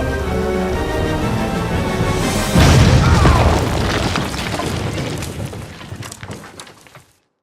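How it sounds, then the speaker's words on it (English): A loud boom bursts in a Kingdom Come Deliverance 2 game scene, followed by rumbling debris and crackling that fade away over several seconds before cutting to silence. "Oops, they're gonna explode."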